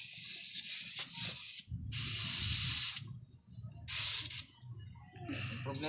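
A spray gun hisses out paint onto a miniature pumpboat in bursts of about a second each, separated by pauses, with faint mechanical clicks and low background noise between sprays.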